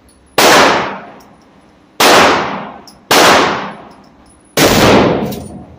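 Four loud .30-06 rifle shots at an outdoor gun club, irregularly spaced about a second or so apart, each a sharp crack trailing off in a long ringing echo.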